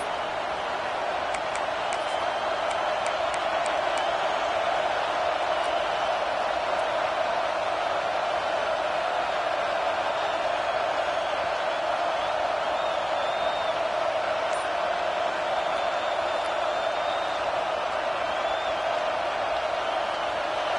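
A steady, distant roar of a stadium crowd in an NCAA football video game, a constant wash of noise holding evenly for about twenty seconds with faint whistles and no clear peaks.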